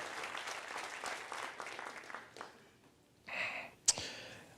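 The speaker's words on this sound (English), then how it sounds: "One more round of applause for Richard, everybody" At a business recognition breakfast, a room claps for about two seconds before the applause fades to quiet, followed by a short murmur and a sharp sound.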